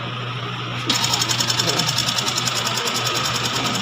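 Petrol engine of a 2005 Toyota Innova with manual transmission idling up close, a rapid steady mechanical clatter that kicks in after a short quiet start and runs on evenly.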